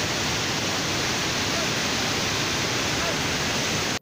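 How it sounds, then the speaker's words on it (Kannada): The Malaprabha river in Gadag district, Karnataka, in heavy flood after intense rain, gives a loud, steady, broadband roar of rushing water that continues unbroken and then cuts off abruptly. "ಮಲಪ್ರಭಾ ನದಿಯ ಅಚ್ಚುಕಟ್ಟು ಪ್ರದೇಶದಲ್ಲಿ ಭಾರಿ ಮಳೆಯಾಗುತ್ತಿರುವ ಹಿನ್ನೆಲೆಯಲ್ಲಿ ನದಿ ತುಂಬಿ ಹರಿಯುತ್ತಿದೆ"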